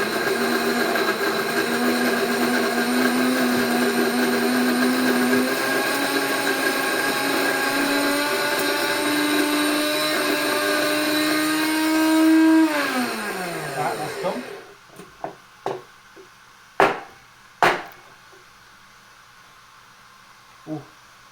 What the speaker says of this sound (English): I'm gonna grind up the coffee